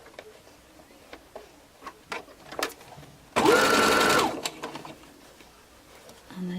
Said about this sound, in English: just literally keep on sewing round and round until you've added all 4 strips